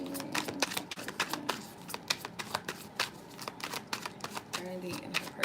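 Janaya shadow cards are shuffled in a rapid, crisp riffling patter that runs close and continuous throughout, with a voice speaking over it at moments.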